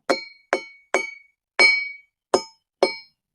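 Sharp, ringing knocks from tapping a carved stone pillar in a Pandya temple near Madurai, six evenly spaced strikes that sound almost glassy and metallic, each with a short resonant tail, heard close and clear without speech.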